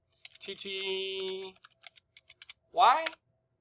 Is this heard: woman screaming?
no